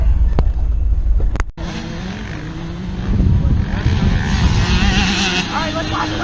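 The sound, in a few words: old van driving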